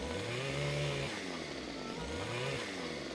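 A chainsaw in Farming Simulator 15, its engine droning steadily with two rising revs that fall away, fairly close and alone with no talk.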